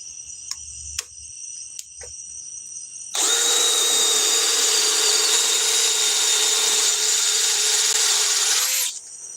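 A DeWalt power drill whines loudly and steadily for about six seconds while straining against a stubborn fastener, after a few short clicks and faint background chirping.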